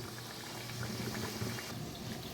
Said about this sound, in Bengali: এখন এইগুলোকেও আমি একইভাবে ভেজে নেব সবগুলো গজাকেই কিন্তু আমি এইভাবে ভেজে নেব